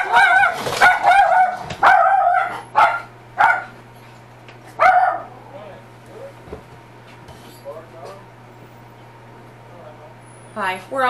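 A dog barks in loud, repeated bursts near the start, then gives fainter yips and whimpers later on, with people talking in between.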